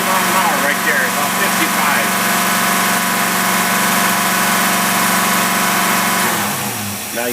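A car engine fed by a Holley four-barrel carburetor hums steadily at speed, loud and close, then the drone drops away near the end as the revs fall; a voice talks over it.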